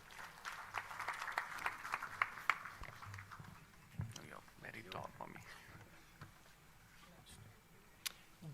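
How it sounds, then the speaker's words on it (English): Audience applause at a stage award ceremony, a burst of clapping in the first few seconds that fades into scattered claps and murmuring voices. "Please put your hands together and welcome with a round of applause, Professor Dr. Walter Leal-Philo."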